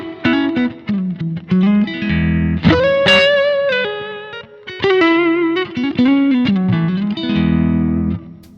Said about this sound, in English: This is, for instance, a hall reverb.